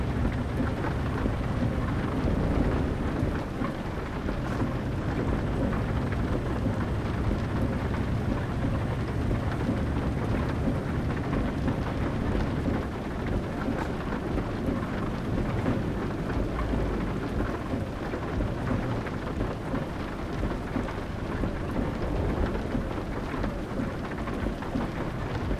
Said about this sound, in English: I don't mind the rain, it does add to the aesthetic